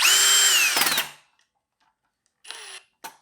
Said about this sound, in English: Now I'm going to tighten the screw for the blade guard so that it snaps back into place properly.